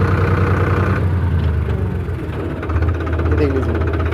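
A 2024 Farmtrac 60 Worldmax tractor drives forward in an unchanged gear, its engine giving a steady, loud, close rumble that runs without a break.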